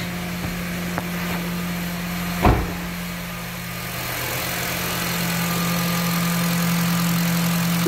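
A car engine idles steadily after a spark plug swap, a smooth low hum running throughout, broken early by a sharp thump like a hood or door, then settling into an even, slightly rising drone.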